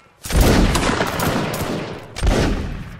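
Rifle volley fired by a line of soldiers at a reenactment battle, two loud, near crashing volleys, the first long and ragged with rolling echo, the second starting near the end, no talk.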